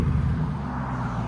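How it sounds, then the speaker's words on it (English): A 2022 Cadillac CT5-V Blackwing with straight pipes idling with the exhaust open, a deep, loud, steady burbling rumble held close throughout a brief stretch. "Keep it open. And rev it. That sounds phenomenal."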